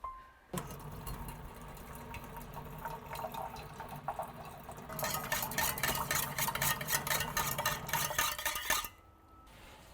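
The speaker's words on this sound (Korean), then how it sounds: "뜨거운 물을 좀 받아서" Hot water running from a household tap, filling a container: a steady broadband gush that grows louder and brighter midway, with clinks of dishes, then cuts off near the end.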